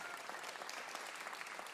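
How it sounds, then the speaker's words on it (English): A small audience at a WoodSongs Kids live show gives the volunteer crew steady, even applause that holds throughout, soft and somewhat distant. "please give the volunteer crew a big round of applause for their hard work"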